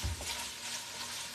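Pasta is stirred in a sizzling frying pan, giving a steady close-up crackle with a soft scrape at the start and no talk.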